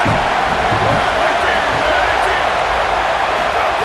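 A stadium crowd roars steadily in a College Football 27 video game simulation of Michigan Wolverines versus Ohio State Buckeyes, a loud, dense, continuous cheer on a third-down play.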